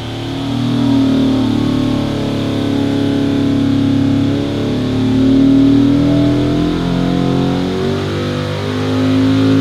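A 383 cu.in. LS V8 with an offset-ground 3.622-inch crank in a 6L block runs on a dyno, revving loud and close in a continuous, swelling drone.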